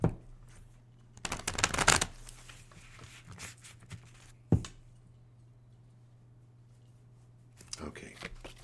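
A deck of cards shuffled for a reading, two close riffling bursts and a sharp snap, then quiet handling and a faint return of shuffling at the end, under a low steady hum.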